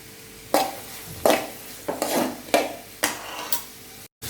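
Sliced onions sautéing in a pan for a netholi (anchovy) fish cutlet, stirred in about six distinct scraping, clattering strokes over a soft sizzle, close by, ending in a brief silence.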